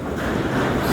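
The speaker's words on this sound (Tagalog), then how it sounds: "malakas pa hangin" Strong wind on a cold, foggy, rainy morning roars loud and close, buffeting the microphone in one continuous rushing blast.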